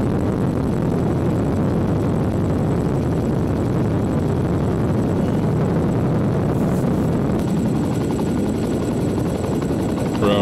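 Helicopter over the Netherlands, a loud, steady rotor thrum and engine roar sustained close by for the whole stretch without a break.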